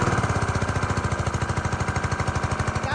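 A gas pressure washer engine runs steadily after an unloader valve repair, its rapid chugging pulses close and loud, with no voices over it.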